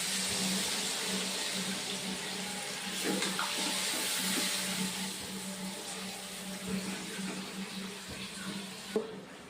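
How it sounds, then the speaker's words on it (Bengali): Water is poured into a pan of cooking curry, producing a continuous rushing splash and hiss that holds steady for several seconds, fairly close, with a low steady hum beneath and a small knock near the end. "এবার জল দিয়ে দেবো।"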